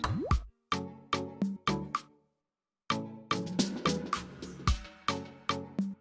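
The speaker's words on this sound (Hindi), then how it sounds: "फिर आप 3 से 4 अदद आलू जो कच्चे हैं वो इसमें शामिल कर दें" Raw potatoes dropped into fried masala in a cooking pot for an egg and potato curry, landing as a rapid run of sharp, close plops and knocks, a brief silent pause, then another burst of hits.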